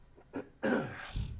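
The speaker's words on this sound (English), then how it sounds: "I got to clear my throat." A man clears his throat close up, with two short soft grunts followed by a louder, rasping clear and a low trailing rumble, no talk.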